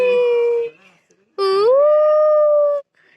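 A puppy whines and howls close by in two drawn-out, wavering cries, the second longer and rising in pitch before settling, separated by a short quiet gap.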